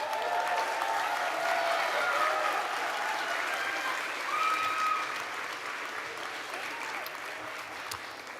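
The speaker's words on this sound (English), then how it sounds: "give them the biggest round of applause for the support" Graduates applaud their families at the Hult Dubai commencement ceremony for the Class of 2025, a loud sustained crowd clapping with some cheering voices that gradually eases off toward the end.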